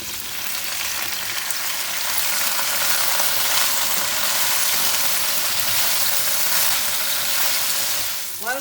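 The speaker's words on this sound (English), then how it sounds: "So we will fry the bhindi first." Bhindi (okra) sizzles and crackles steadily as it fries in hot oil, a close, continuous hiss with no voices.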